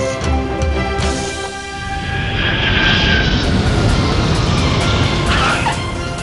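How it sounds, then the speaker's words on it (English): Aircraft engines roar at a snowy airport, a loud steady rumble that swells slightly midway and stays continuous throughout, with no voices. "The aircraft never stop arriving."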